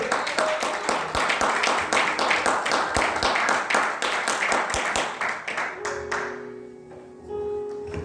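A church congregation claps rhythmically and loudly to acclaim the preacher. Steady beats continue for about six seconds, then fade away as a voice and some music take over.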